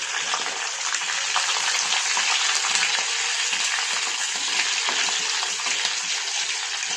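Green chillies fry in hot tempering oil for buttermilk curry, a loud, steady crackling sizzle that goes on without a break.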